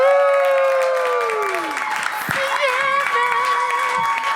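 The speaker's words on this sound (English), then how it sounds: "give a round of applause for Miss Sierra Casey" A live show audience at a studio breaks into applause for a guest, a brief burst of clapping and some cheering heard under a sustained musical tone.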